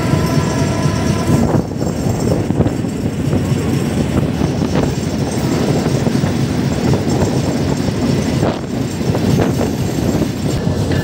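The Modhumoti Express runs on the rails near Gandaria station toward Dhaka Kamalapur, a loud, continuous rumble with rhythmic clickety-clack of wheels over joints, heard from aboard.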